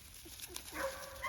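A young puppy from a litter whimpers and yips faintly, a couple of soft, thin high-pitched cries over quiet background noise.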